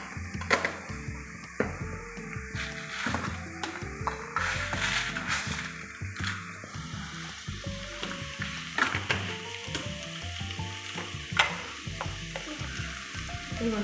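Ginger garlic paste with salt and turmeric frying in a pot for khichdi, a soft continuous sizzle broken by scraping stirs and a few light utensil clinks, close up with no voices.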